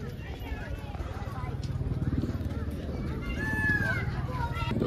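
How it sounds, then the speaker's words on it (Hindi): Chickens cluck in a busy outdoor scene at Manda Zoo in Jammu, with a rooster's crow rising briefly near the end over steady background chatter and noise. "मुर्गी आवाज आ रही है अभी"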